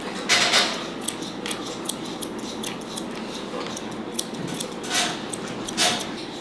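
Grooming scissors snip repeatedly at a West Highland White Terrier's coat while trimming the skirt, giving a series of quick, light metallic clicks at an uneven pace, close and fairly faint.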